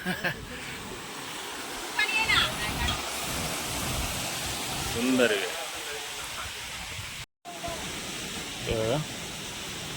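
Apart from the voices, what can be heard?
Napane waterfall, water flowing below glass bridge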